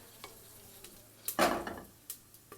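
Cinnamon, cloves and cardamom hit hot oil for vegetable pulao, a soft background sizzle swelling into one loud burst midway, followed by a few lighter clinks and stirring sounds.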